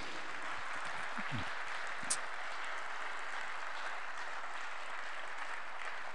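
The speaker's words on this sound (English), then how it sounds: "give the dancers a wee round of applause" A crowd at a conference panel debate applauds dancers steadily throughout, a dense even patter of many hands with no talking over it.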